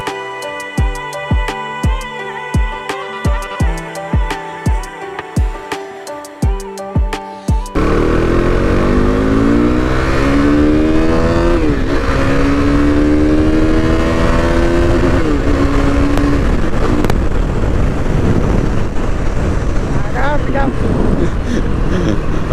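A Yamaha R15 V3 motorcycle does a burnout. Short sharp revs in a rhythmic series give way to a sustained, loud, roaring engine with a rising and falling pitch and heavy rushing noise.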